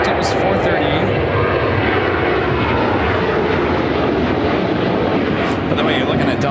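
A Delta Airlines Boeing 717-200 airliner rolling for takeoff at Chicago O'Hare, its engine roar loud, close and continuous throughout, with voices talking over it.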